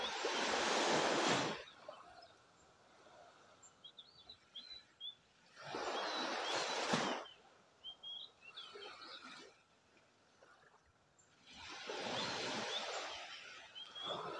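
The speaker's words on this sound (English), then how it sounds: "listening to the ocean as it laps against the beach" Ocean waves lap against a beach in Thailand, three slow swells washing in and receding with quiet pauses between, soft and close, with faint bird chirps in the background.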